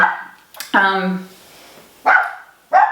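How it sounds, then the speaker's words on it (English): A dog barks several times indoors, loud and close: a sharp bark, then a longer drawn-out yelp, followed by two more short barks after a pause, with a person speaking around them. "Dog's barking."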